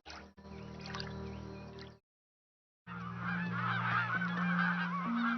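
Geese and other waterfowl honking close by, a dense run of repeated calls that cuts out briefly before resuming with steady honks and a low sustained tone.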